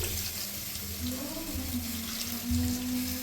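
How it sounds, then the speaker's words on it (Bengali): Water poured into a cooking pan of fried spice paste for a Bengali vegetarian potol posto dish, a steady close rushing pour with a low hum underneath, continuous for a few seconds without speech. "এবার আমি ওর মধ্যে একটু বেশি পরিমাণে জল দিচ্ছি"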